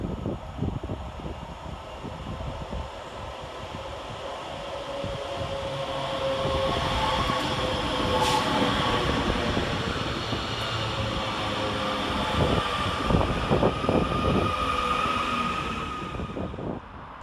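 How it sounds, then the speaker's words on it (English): A Class 331 Northern electric train pulls into Huyton station, a broad rumbling roar with rail clatter and squeals building and holding over many seconds, heard from the platform without speech. "Into the station next is 331021, working the 1315 Northern service from Liverpool Lime Street to Manchester Airport"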